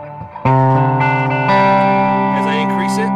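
Electric guitar played through a Roland Cube 80XL amp with its delay effect engaged, sustained chords ringing on with repeating echoes and reverb, loud and close.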